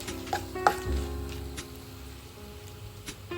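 Dried red chillies fry in leftover oil in a pan while a bottle gourd chutney is being made, giving a steady soft sizzle with a few sharp crackles early on, close and moderately quiet.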